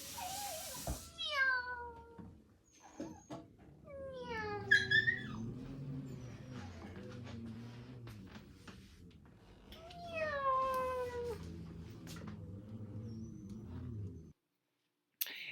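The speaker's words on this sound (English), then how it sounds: "The cat is awesome." A kitten meows in three bursts of rising-and-falling calls spread over about fifteen seconds, close and fairly clear above a low steady hum.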